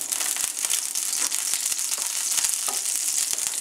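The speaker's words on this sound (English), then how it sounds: "We're going to take one of our pork tenderloins, and we're going to sear it off." Pork tenderloin sears in a very hot pan with olive oil, giving a loud, continuous sizzle with crackling pops and spits up close, uninterrupted by talk.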